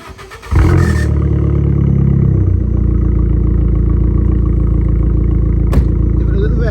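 A modified Abarth 500 with a stage 1 map and 3-inch exhaust fires up with a loud blip, then settles into a throaty, steady, close-miked drone that holds strongly to the end.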